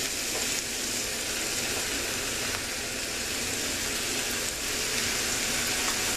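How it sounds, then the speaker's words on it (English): About a pound of shaved ribeye steak sizzles steadily in a hot cast iron pan, a dense, constant hiss and crackle that stays close and even from start to finish. "I got about 1 pound of shaved steak. We're going to throw that on there."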